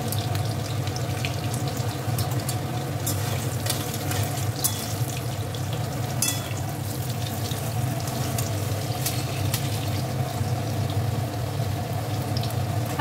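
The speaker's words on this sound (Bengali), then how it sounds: "আলু ভাজা হচ্ছে" Potatoes frying in oil in a home kitchen, giving a constant, even sizzle and crackle throughout with a low hum underneath and no talk.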